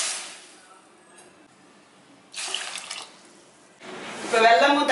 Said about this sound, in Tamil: 2 கப்பு தண்ணி சேர்த்துக்கலாம்